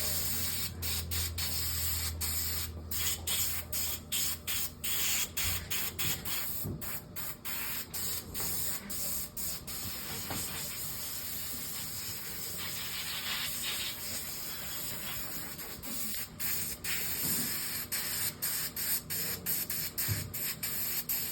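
A continuous hiss of spray paint goes onto a taxidermy deer mount in a steady, close stream, broken by brief pauses and faint handling clicks.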